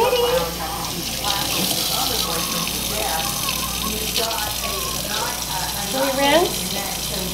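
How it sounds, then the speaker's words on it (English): A tap runs steadily while a long-furred dog is being bathed, an even rush of water throughout, with voices and brief whining sounds over it. "Is that water?"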